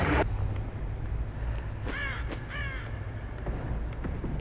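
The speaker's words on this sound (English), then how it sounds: "those crows give you away" Crows in the Dead by Daylight video game caw in two or three harsh bursts over a steady, ominous ambient drone.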